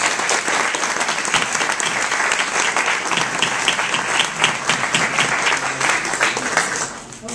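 An audience applauds youth at a community event, a full and even wash of clapping that holds steady throughout and fades slightly at the end.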